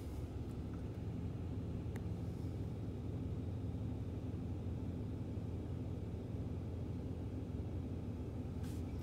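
A 2019 RAM 3500 Longhorn pickup truck idles with a steady low rumble and constant drone heard from close by, with no talk over it.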